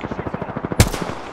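Fast automatic gunfire in an Apex Legends match, a steady rattle of close shots ending in one louder hit, with no talk over it.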